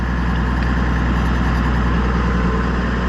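A tractor engine idles steadily at close range, a low, even diesel rumble with a constant throb that holds unchanged throughout, with no voices over it.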